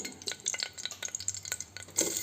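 A large onion fries in oil until light brown, giving a soft, fairly faint sizzle broken by quick irregular scrapes and taps of a spoon stirring in the pan. No one speaks.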